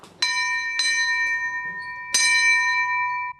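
A bell in an older house rings to call people to dinner, struck three times with bright, sustained metallic tones that ring on and decay slowly between strikes, clear and close with no voices.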